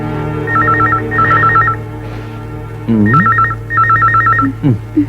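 An indoor telephone rings in a bedroom, loud and near, in two bursts of repeated warbling double rings with a pause between; a voice briefly sounds between the rings.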